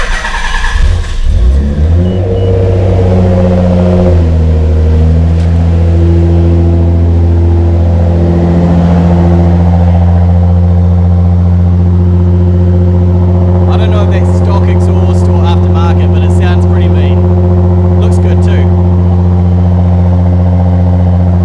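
A manual Toyota RAV4's engine runs close by, rising from a rough start into a strong, steady drone with deep harmonic tones as it revs and holds for about twenty seconds.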